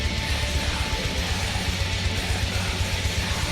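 Extreme metal growls and screams from a Cyberpunk 2077 radio song, harsh and unintelligible over dense, loud distorted guitars and pounding drums, continuous wall of sound.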